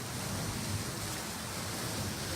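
Loud rushing water pours continuously near an attraction at OWA, a dense, steady broadband roar filling the whole clip with no pauses or voices.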